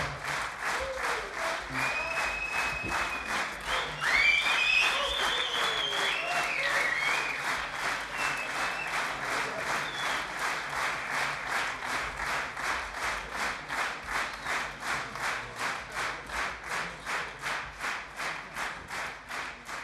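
Concert audience applauding a percussionist after a big band performance: sustained clapping that settles into steady rhythmic unison clapping, with a few whistles and shouts early on, moderately distant and filling the hall.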